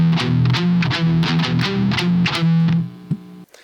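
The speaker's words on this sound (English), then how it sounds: "Later, the same riff is played, but with distortion and palm mutes." A distorted electric guitar plays a palm-muted riff, with chugging, rhythmic chords close and loud, ending on a sustained note that cuts off abruptly.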